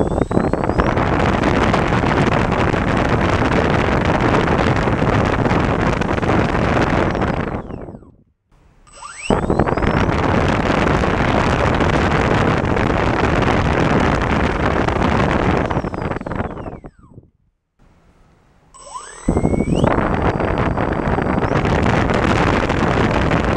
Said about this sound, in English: I'm going to spool up first the Hextronik, then I'm going to do the Turnigy 2730